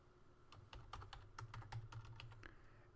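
A password for Windows Home Server 2011 typed on a computer keyboard, a quick run of close, crisp key taps in uneven rhythm with no voice.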